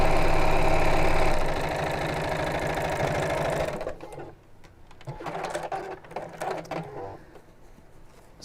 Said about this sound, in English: so then needle down, foot up, wiggle it out of the way, and sew down to the end.